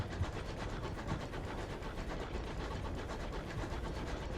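Locomotive engine in the game Sunless Skies: a steady, dense mechanical rumble with rhythmic chugging pulses, continuous and fairly loud throughout, no talking.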